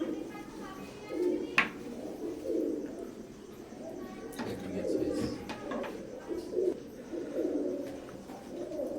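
Imported Teddy pigeons from an Oman bloodline coo repeatedly in soft, rolling phrases, with a few sharp clinks and knocks and someone talking between calls.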